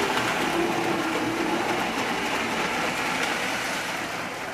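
A steady rumbling, rattling hum of a Lego toy train rolling along its track, close by and fading slightly toward the end, with no talking.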